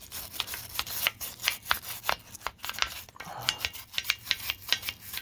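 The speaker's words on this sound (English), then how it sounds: "the brush I'm using is not abrasive at all. It's plastic bristles." Plastic-bristle brush scrubbing a part from a disassembled Honda H22A4 engine, a quick series of rough rubbing strokes in a steady back-and-forth rhythm, close and fairly clear with no talk.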